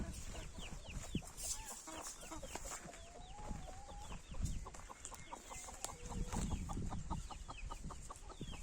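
A broody turkey hen clucks in rapid, repeated low notes at close range, with other birds chirping and a steady outdoor murmur behind.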